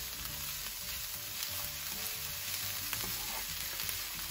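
Green onion is given a quick stir into dumpling filling sizzling in a pan, a steady close frying hiss with soft scraping and stirring clatter throughout.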